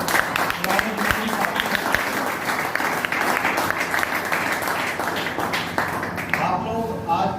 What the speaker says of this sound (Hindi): पर तालियां हो जाती है